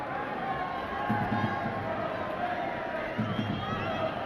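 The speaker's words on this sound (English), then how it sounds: "Another terrific crowd here." A large football stadium crowd at an A-League match roars steadily, with swells of cheering under a commentator's voice.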